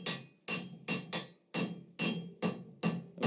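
A hammer strikes a steel bar being forged into a long taper for a coal-forge project, eight sharp ringing blows in a steady, fairly quick rhythm, close and clear with no talk.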